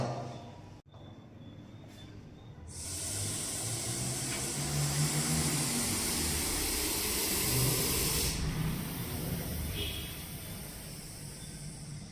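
An aggressive cobra hisses as a warning during a night snake rescue: a loud, steady breathy hiss like a pressure cooker whistle lasts about six seconds, then fades back to quiet background noise.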